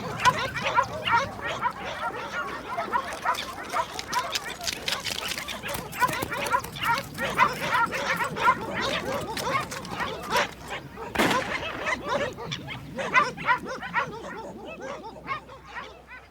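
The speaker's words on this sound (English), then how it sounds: "once the dogs are on her trail, the boundaries might be ignored" Hunters' dogs bark and yip excitedly while trailing a puma through the Andes, a dense, continuous chorus of overlapping barks from several animals, fairly close, with a narrator's voice at times underneath.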